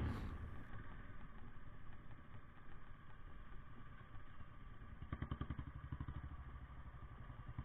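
Motorcycle engine running steadily as the bike rides from a petrol pump toward a race track for a KTM versus Bullet 350 drag race, with a louder throbbing pulse near the end and no speech.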